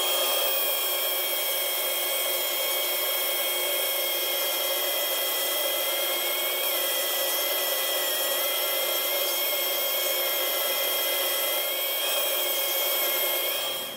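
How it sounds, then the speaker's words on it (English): An angle grinder fitted with an 80-grit sanding disc whines steadily and loudly for the whole stretch, with a constant abrasive rasp and no pauses. "got my sanding disc, 80 grit sanding disc in the angle grinder"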